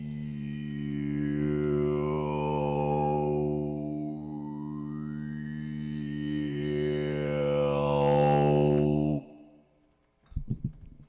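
A person imitates a goat with their mouth, holding one long wavering bleat for about nine seconds before breaking off, followed by a short burst of further sound.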